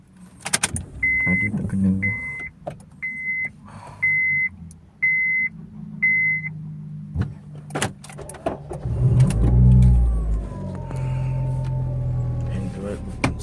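A Honda Civic FD is started: a series of six evenly spaced dashboard chimes and key clicks, then the starter cranks and the engine catches into a low idle, with someone talking nearby.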